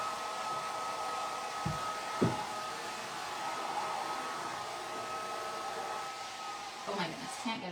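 A heat tool set on low blows steadily to dry a craft stencil, a continuous close whooshing hum that runs the whole time with a couple of brief knocks and some faint movement noise under it.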